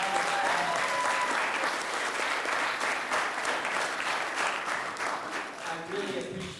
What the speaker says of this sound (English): How about another round of applause for all of you?